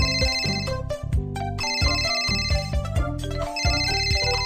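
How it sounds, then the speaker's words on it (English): A cartoonish ringtone at a children's fire station, a bright electronic melody of repeated chiming notes in a bouncy pattern, loud and clear with no talking. "The phone is ringing."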